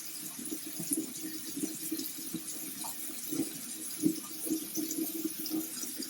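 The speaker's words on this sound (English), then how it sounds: "I'm going to start my water and let my water warm up so I can wet my washcloth" Tap water running steadily into a bathroom sink while warming up to wet a washcloth, a soft continuous close wash with small splashy fluctuations and no talking.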